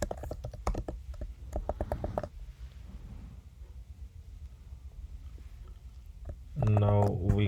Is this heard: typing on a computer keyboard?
yes